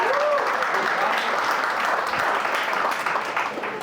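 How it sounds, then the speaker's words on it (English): Steady applause from a studio audience greeting two Ohio State football players, a dense wash of clapping that holds at full strength throughout and fades a little at the end. "Let's give them a round of applause."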